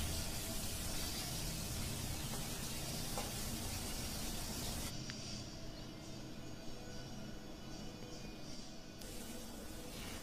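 Fish pieces rubbed with turmeric and salt fry in hot oil, giving a loud, continuous broadband sizzle close up. The sizzle keeps going with little change and dips briefly about halfway through before rising again.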